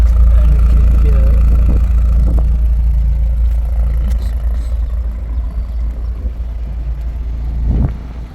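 A 2023 Mercedes-AMG C 43 4MATIC engine running steadily at a low rumble, heard up close and loud and fairly constant, with a slight swell near the end.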